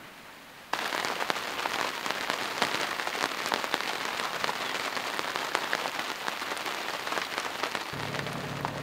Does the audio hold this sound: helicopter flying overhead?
no